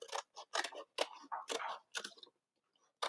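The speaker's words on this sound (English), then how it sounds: "So I'm going to use my scissors," A few quick, crisp snips of scissors through paper, close by, in short bursts with brief pauses between them.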